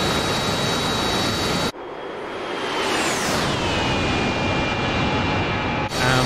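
Jet engine roar from an A-10 and an AV-8B Harrier in the flight simulator game DCS, a loud steady whine that cuts out, then returns with a sweeping pitch drop, without talk.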